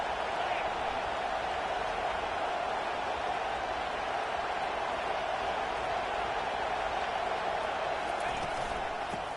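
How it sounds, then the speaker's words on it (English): A dense, steady roar of a large American football stadium crowd cheering on its defense, loud and sustained without breaks. "It is getting loud as this crowd tries to help its defense."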